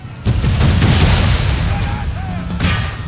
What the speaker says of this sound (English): Okay, so I got to throw some grenades, and that was awesome.